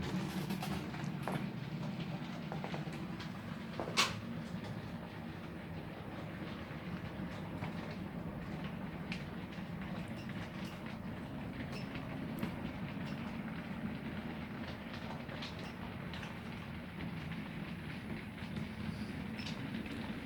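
A small model railway locomotive pulling a train along the track, giving a soft continuous rumble with faint clicks and one sharper knock, heard alone at low level.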